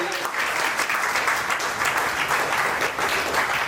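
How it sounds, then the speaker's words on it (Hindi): Loud, steady audience applause greets a guest speaker arriving on stage at a marketing association event, dense clapping running continuously without a break. "फिर से ताली होनी चाहिए सर के लिए"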